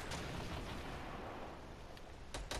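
Fortnite gunshots crack faintly in the distance over a dense, rumbling game background, with a couple of sharper shots near the end.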